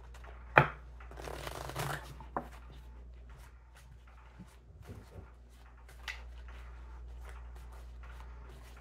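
Cards being riffled and bridged in a couple of quick bursts, then quieter handling and soft shuffling sounds, close up with no talking.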